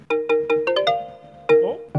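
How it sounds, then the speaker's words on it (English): A Nokia-style ringtone plays a quick series of bright, bouncing electronic notes, close and clear, with a short pause before a few final tones. "sounded like a Nokia ringtone."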